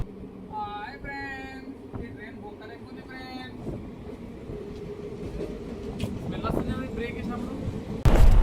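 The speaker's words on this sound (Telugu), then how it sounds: "నిజంగా అసలు ట్రైన్ ఎంత స్లో వెళ్తుంది." A train rolls along with a steady rumble and rhythmic rattling, while voices talk in the carriage; a loud rushing burst comes at the end. Slow train from Hyderabad to Tirupati.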